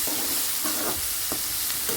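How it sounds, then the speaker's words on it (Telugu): Onions frying in oil in a pan with a little salt added, a steady soft sizzle with a few brief scraping stirs, close and alone with no talk. "ఇప్పుడు ఇది వేగుతూ ఉందండి"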